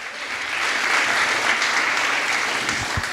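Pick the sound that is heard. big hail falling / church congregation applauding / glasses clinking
church congregation applauding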